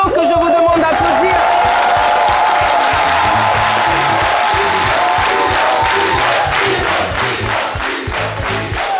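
A studio audience applauds and cheers a guest team on a French midday TV show, steady loud clapping with whoops and crowd noise throughout, under a host's voice speaking.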